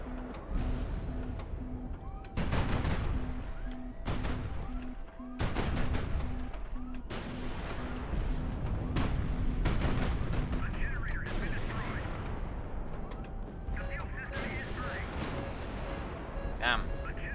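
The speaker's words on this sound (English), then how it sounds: "A lot of missiles" Missile fire and explosions in the naval strategy game High Fleet, with repeated loud booming blasts and crackling volleys across the whole stretch, a steady tonal game hum underneath.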